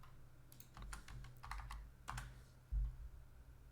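Clacking keystrokes on a computer keyboard while a SQL query is written arrive as a quick, irregular cluster of taps, soft and close, ending with a louder thump like a final key press.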